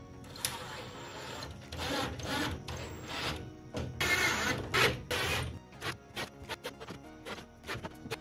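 Self-tapping waterproof screws driven into roofing panels on a golf cart solar build, a series of short whirring bursts from a power driver with mechanical rattles and pauses between screws, fairly quiet.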